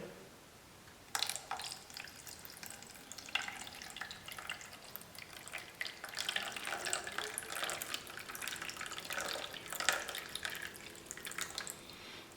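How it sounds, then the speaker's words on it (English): Water pours and splashes into a plastic anti-spill ice cube tray fitted with a lid and a small fill flap. The trickling and dripping starts after a second and runs steadily, close and moderately quiet, with no talking. "Pour the water in."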